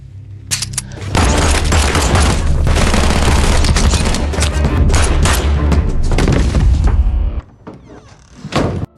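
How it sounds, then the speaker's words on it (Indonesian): Heavy gunfire erupts in an action film scene, a dense sustained barrage of loud shots and booms lasting several seconds before dropping off into a few scattered final blasts. "Victor tiba-tiba membunuh semua anak buah Jepir karena ia sangat kesal dengan anak buah Jepir yang terus-menerus membawa senjata"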